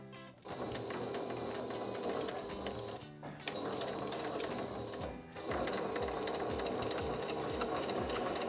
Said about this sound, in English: We're just going to go ahead and sew the side seam of the skirt all the way down using that valley as our guide for stitching.